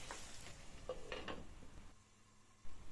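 Ivy gourd pieces being stirred and fried with onion in a pan, with faint scattered clinks of a utensil against the pan over a quiet, low background sizzle, no voices.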